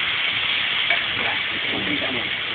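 Tomato and onion sautéing in a pan for squid stir-fry, a steady close sizzle and hiss of frying with faint stirring scrapes, no one talking.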